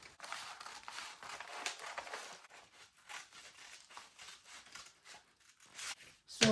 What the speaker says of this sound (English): After doing that, you come here and cut the cup area.